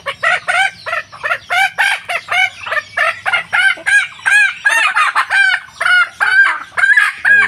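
Native chickens at a village poultry market cluck steadily while a rooster crows, the loud, close calls coming in quick repeated bursts with no talking.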